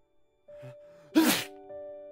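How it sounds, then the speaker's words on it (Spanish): A single sharp sneeze from a character in a Spanish audiobook reading of Pinocchio, loud and abrupt, set between a sustained steady tone and quieter breathy sounds, with no talk over it. "Y estornudó otras dos veces."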